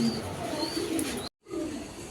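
Pigeons cooing in soft, low murmurs against a constant background hum, briefly cut by a moment of silence before resuming.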